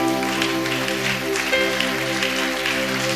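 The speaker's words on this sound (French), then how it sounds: "Est-ce qu'on peut encore l'acclamer?" A church congregation applauds during a closing service, a steady wash of clapping that carries on over a sustained, droning musical tone.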